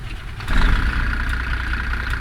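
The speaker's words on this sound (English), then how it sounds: "Let's go and fire it up." A Kenworth W900 truck with a 5 3/4 C16 diesel and 13-speed transmission fires up, a sudden rise into a steady, deep, close idle rumble that holds evenly to the end.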